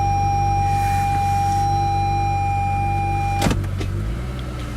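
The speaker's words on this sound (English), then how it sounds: "When you put the vehicle into reverse, this will tilt down the mirrors" Side mirrors of a 2018 Lexus GS350 with a 3.5 L V6 motor downward as reverse is engaged, a steady electric whir over the idling engine and cabin chime tones, ending in a brief clunk.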